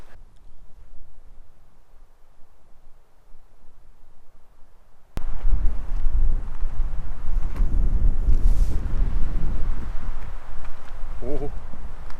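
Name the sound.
wind on a hike up to a cave on La Palma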